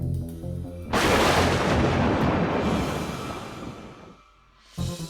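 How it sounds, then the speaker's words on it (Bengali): A sudden, loud thunderclap as lightning strikes a tree cracks and rolls into a long rumbling roar that slowly fades before another burst starts at the end. "সঙ্গে সঙ্গে গাছের উপরে জোরে একটা বাজ পড়ে"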